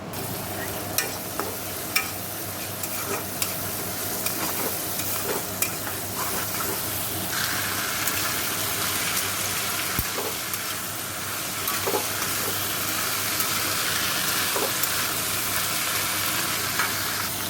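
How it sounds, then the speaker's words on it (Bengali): Whole garam masala spices frying and sizzling in hot oil in a pan for ghugni, a continuous close sizzle with frequent stirring clicks and scrapes, steadying into a brighter hiss toward the end. "এখন গোটা গরম মশলা ফোড়ন আমি প্রায় এখন চানা বানাচ্ছি ঘুগনি বানাচ্ছি"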